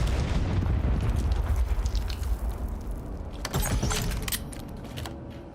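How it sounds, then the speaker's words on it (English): A frag grenade explodes in a Call of Duty esports match, a deep booming blast with a rumbling decay, followed by scattered clinking and rattling game effects. "even the explosion of a frag grenade has not stopped the LA Thieves on this literal train track"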